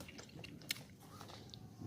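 Crunchy chewing of a candied mango snack, quiet bites and mastication sounds with one sharper crunch, close to the mouth and faint.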